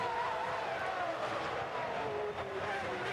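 A Formula One Ferrari race car on track at the 1995 Argentine Grand Prix, a faint high engine whine in the distance under a steady broadcast-like background.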